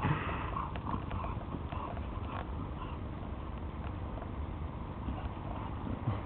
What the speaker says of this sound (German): Ja, die Pferde können den Hund auch gut beschäftigen.